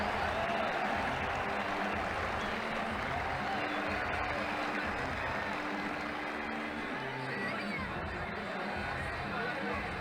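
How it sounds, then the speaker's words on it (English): A crowd at a cricket match in a video game applauds and cheers after a big boundary shot, a dense continuous roar of clapping and voices sustained throughout. "That shot brought the crowd to their feet."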